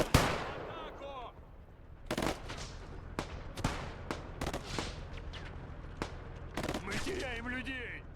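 Gunfire in the WWII strategy game Call to Arms Gates of Hell, Ostfront battle between USSR and Germany: scattered sharp single shots and bursts, some near and some farther off, with brief voices in between.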